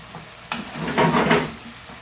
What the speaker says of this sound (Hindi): हमारा कीमा फ्राई हो चुका है अच्छी तरह से।